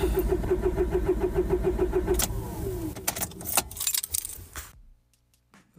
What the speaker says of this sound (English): Here he is trying to start his car.